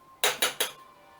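A spoon scrapes and clinks against a pan while semolina kesari, a sweet Dussehra festival offering, is stirred: three quick, close, bright scraping strokes in an even rhythm, with no voices.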